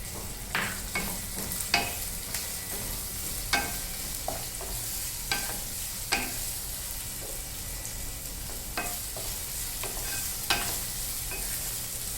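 Onion sizzling in hot oil in a pan while being stirred, for a Maharashtrian sandgyachi bhaji with ginger and garlic; steady frying hiss with repeated scraping and tapping of the spoon, close up, no voices.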